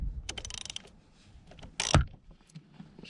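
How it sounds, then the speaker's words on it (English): Ratchet with a 17 mm socket tightening the sprocket nuts on a Yamaha R6, giving a run of quick metallic clicks followed by one louder crack near the middle, close and without talk. "grab your ratchet, throw the 17 on, and you just start tightening away"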